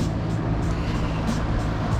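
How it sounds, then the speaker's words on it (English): A car's air conditioning runs inside an auction car, a steady low blowing hum with a rumbling undertone that stays constant and close without any talk. "Sorry about the air conditioning"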